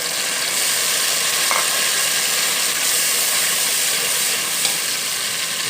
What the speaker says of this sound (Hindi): इसको अच्छे तरीके से भून लेते हैं।